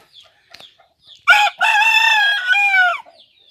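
A Burmese-type gamecock in Maha Sarakham, Thailand, crows once nearby, loud and drawn out, after a few soft clucks; faint clucking follows.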